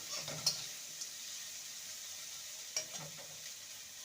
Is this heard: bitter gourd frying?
yes